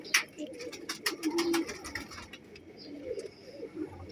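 Soft pigeon coos murmur low and steady alongside a few brief sharper bird calls and light rustling, fairly close by.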